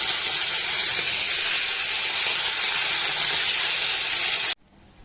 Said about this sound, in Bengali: তারপরে মাছগুলোকে এখন তেল একদম গরম করে ভাজবো